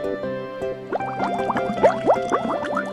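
Cartoon water filling a bath, a short burst of bubbly, gurgling pours with quick rising blips over a musical background, no talk.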